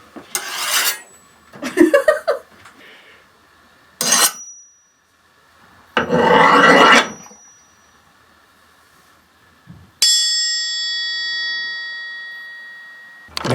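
Crowbars from a home tool workshop are scraped together to imitate a sword being drawn, giving several separate metallic swipes and screeches, close and loud, the last one ending in a long ringing tone that slowly fades.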